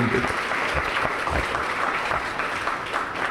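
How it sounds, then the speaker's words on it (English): An audience at a community roundtable applauds the president and vice president in a sustained, steady burst of clapping with some voices mixed in throughout. "Let's give our president and our vice president a round of applause for y'all too."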